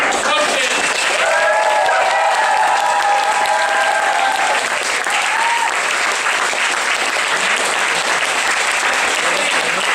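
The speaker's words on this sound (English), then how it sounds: "Can we give one last thing of applause for our three wonderful coaches?" An audience in a hall applauds its three coaches at a Shakespeare Smackdown event, dense sustained clapping throughout at a steady loud level, with a voice briefly speaking over it early on.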